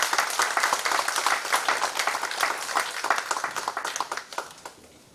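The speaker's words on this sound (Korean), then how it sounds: "여러분 박수로 환영해 주시길 바랍니다." Audience applause fills a church forum's opening service, welcoming a university president as guest lecturer; dense clapping runs steadily, then thins and fades toward the end.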